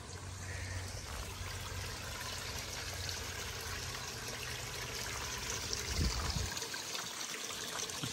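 Water trickling and splashing steadily out of a koi pond skimmer, a continuous gurgling flow with a low hum underneath that drops away near the end as the skimmer is shut down for winter.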